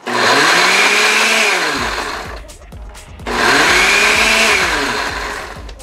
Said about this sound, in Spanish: vamos a ir moliendo en pequeñas pulsaciones de un segundo cada vez